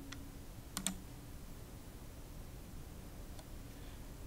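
A computer keyboard gives a few faint, close clicks as the Enter key is pressed, a short cluster of taps followed by one lone click against a quiet room hiss.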